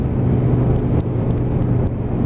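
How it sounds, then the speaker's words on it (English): An Aprilia RSV Mille's big V-twin engine chugs steadily and loudly during a ride, a dense low rumble with road and wind noise running without a break. "Big V-twin underneath me, just chugging away."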